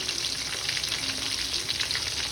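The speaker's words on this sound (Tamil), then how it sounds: "ஸோ கைஸ் ஆயில் ஹீட் ஆகிடுச்சு, கருவேப்பிலை ஆட் பண்ணிட்டேன்." Curry leaves, green chili, garlic and shallots frying in hot oil for mutton semigravy: a dense, even crackling sizzle, close and steady throughout, with no voices.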